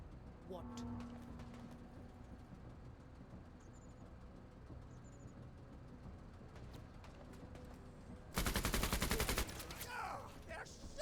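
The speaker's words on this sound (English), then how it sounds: "They're shooting us." Gunfire in the tactical RPG video game Menace, a loud dense burst of rapid shots lasting about a second late in the stretch, with faint game ambience and scattered battle noises before and after.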